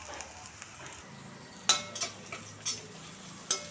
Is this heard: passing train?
no